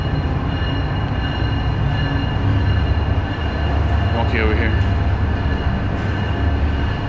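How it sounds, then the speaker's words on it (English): A train rumbles past close to a San Antonio makerspace, a steady low broadband roar filling the whole stretch at constant loudness, with a person speaking briefly over it. "we're near a train, so you can hear some rumbling sometimes"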